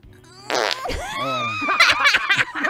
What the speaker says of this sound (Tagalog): Umutot ka na lang dyan.